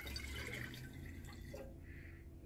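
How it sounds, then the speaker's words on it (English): Water being poured into a jar to make 1:1 sugar syrup, a faint, continuous liquid trickle and splash that settles toward a quieter fill, with no voices. "so start with putting the water in the jar."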